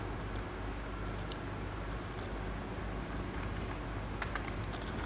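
Keys clatter softly on a computer keyboard while a narration is typed into Tally accounting software, a light run of taps beneath a steady low background hum.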